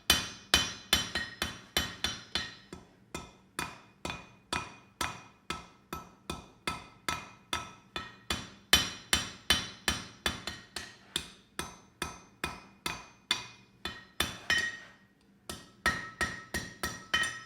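A hammer strikes a mini axe head on an anvil during forging, ringing in a fast regular series of sharp metallic blows, close and loud, with a brief pause near the end before striking resumes.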